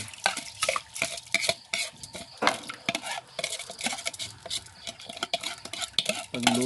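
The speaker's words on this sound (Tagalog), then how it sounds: "Tapos haluin na natin siya ng haluin hanggang sa lumambot." Spoon stirring rice in a cooking pot for lugaw, repeated scraping and clinking strokes in an irregular rhythm, close and fairly loud, with a faint sizzle beneath and no talking.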